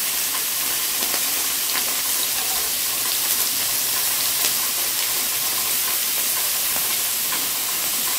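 Meat sears on a hot grill pan in a Vietnamese home kitchen, giving a steady, close, dense sizzle and hiss with occasional pops and crackles throughout, no voices over it.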